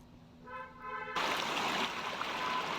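River water rushes steadily after a brief quieter lead-in with a faint tonal hum, the broadband flow loud and continuous, children bathing in the river and a city setting stated nearby.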